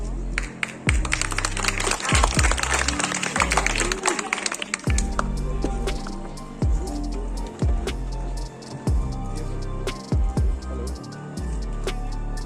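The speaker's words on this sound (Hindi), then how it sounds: "जोरदार तालियां" Applause from the audience at a school science exhibition, a burst of mixed clapping that fades after a few seconds into scattered taps over background music with a steady beat.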